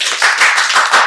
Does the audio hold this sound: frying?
no